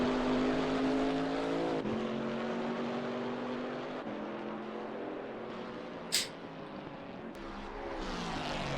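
The number 19 Jurassic Racing Camaro GT4 race car laps Watkins Glen: a steady engine drone with gear-shift changes in pitch and a brief sharp noise near the end.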